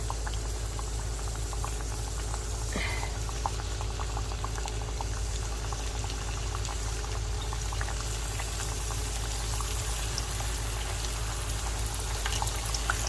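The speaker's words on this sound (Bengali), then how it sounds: "তেল গরম হয়ে গেছে। এবার আমি পিঠাগুলো দিতে পারি একটা একটা করে।" Egg pitha batter made from rice flour, wheat flour and egg frying in hot oil, a steady dense bubbling crackle that runs continuously and evenly at close range with no voices.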